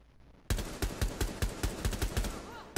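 Pistol gunfire in Rainbow Six Siege: about a dozen sharp, loud shots in quick, fairly even succession after a half-second of quiet, close and punchy with no talk over them.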